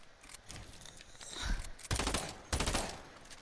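Rapid gunfire from a fast-shooting gun in Fortnite, dense bursts of shots with two especially loud volleys in the second half, layered over faint background game noise.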